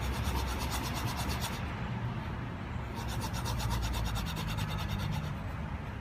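Fine 1200-grit sandpaper rubbed back and forth over a metal edge while tuning an Edgun Matador airgun regulator, a steady close raspy scrubbing in even strokes with a brief lighter pause midway.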